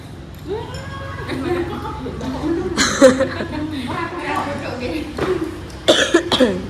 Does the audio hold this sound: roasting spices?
no